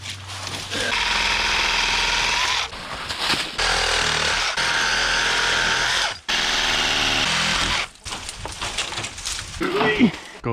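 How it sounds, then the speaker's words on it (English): A Sawzall reciprocating saw cuts through tree branches leaning on a house roof, giving several loud, sustained buzzing bursts separated by short pauses, close to the microphone with no talking. "See if it'll cut through them branches."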